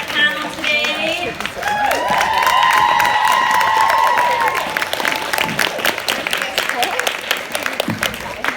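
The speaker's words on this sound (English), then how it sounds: "I want you guys to give a huge round of applause to our mindset panel today." Applause and cheering for a mindset panel at an Uplift You 2019 event, a crowd clapping steadily with whoops and raised voices mixed in and talk in the room, the clapping continuing as the cheers fade.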